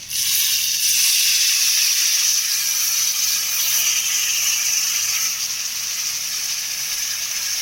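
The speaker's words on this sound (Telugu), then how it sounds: "ఈ పులుసుని ఇందులో వేసేసుకుంటున్నాము" Tamarind water poured into a hot pan for a taro root pulusu gives a loud, continuous hiss and sizzle that holds steady for several seconds before easing slightly.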